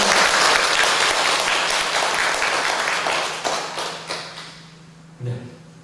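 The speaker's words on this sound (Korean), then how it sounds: "여러분의 큰 박수를 보내주시길 바랍니다" A church congregation at a Korean worship service claps in a loud burst that gradually thins and fades, ending with a few scattered taps and a soft thump.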